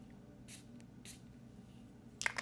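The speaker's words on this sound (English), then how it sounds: "But let me give it one more spray," Short hissing sprays of Creed Cedre Blanc perfume from an atomizer bottle, two quick bursts close by in a quiet room, followed by a faint rustle.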